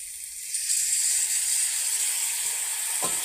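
Yogurt hits hot oil with frying jackfruit in a pan, setting off a loud, steady hiss of sizzling that starts abruptly and holds, with a brief clatter near the end.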